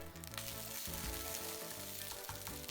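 Vegetables and egg mix stir-fry for Chinese-style egg fried rice, giving a steady, close sizzle with the soft scrape of stirring throughout, over a tonal background.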